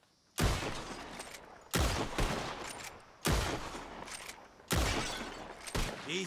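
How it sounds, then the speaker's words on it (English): Four loud bursts of revolver gunfire during a bottle-shooting contest in Red Dead Redemption 2, each volley a dense crashing blast with shattering glass, separated by brief pauses. "Whoever shoots more of these bottles wins. Just draw your gun and aim when you're ready"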